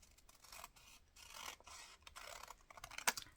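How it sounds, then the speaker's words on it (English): Scissors snip and rasp through paper for a junk journal: a faint, close series of soft scratchy cuts with small pauses, ending in a slightly sharper snip. "I'm going to cut it from the corner to the middle"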